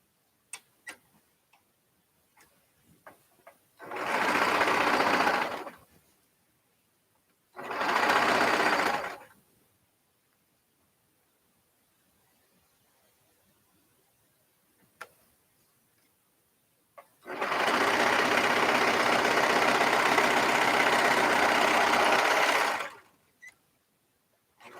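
A sewing machine stitching a bag liner runs in three loud bursts, two short and one long, with quiet gaps in between where the presser foot is lifted and small clicks and handling taps are heard.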